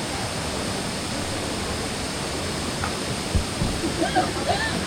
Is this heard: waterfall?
yes